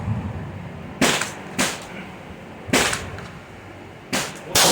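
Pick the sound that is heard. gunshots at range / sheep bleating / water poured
gunshots at range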